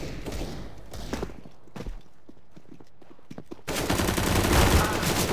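Gunfire and a shotgun blast in Counter-Strike: Global Offensive: sharp scattered shots early on, a quieter stretch with a few faint hits, then a loud dense burst of fire to the end.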